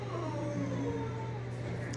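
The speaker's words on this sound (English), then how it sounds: "If you hear my dog in the background" A dog whining faintly in the background indoors, a few thin, wavering high-pitched whimpers rising over a steady low hum.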